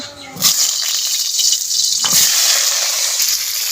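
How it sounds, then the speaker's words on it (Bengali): Pointed gourd (potol) dropped into hot oil in a wok, a sudden loud hiss of frying that swells and holds steady for a few seconds, close and without talk. "এবারে এই তেলেই পটল ভাজা দেব।"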